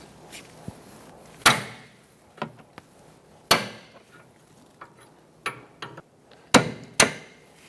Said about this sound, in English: we're going to use a 24mm wrench and we're going to break it free